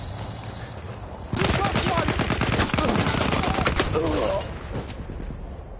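Rapid automatic gunfire in Battlefield 1, a loud sustained burst of closely spaced shots lasting about three seconds, then fading into quieter background game noise.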